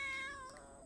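A cat meows once, a short tonal call that starts loud and fades away over under a second, heard alone and close.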